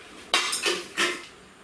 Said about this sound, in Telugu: Plates, steel plates.